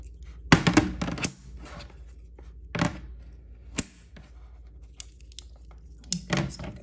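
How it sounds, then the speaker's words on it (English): Magnetic hematite rock fidgets clack together in a handful of sharp, brief clicks and snaps, a cluster near the start, then isolated knocks spaced through the rest, close by and fairly loud. "they make that clacking sound, and they're strong enough to just snap back into place"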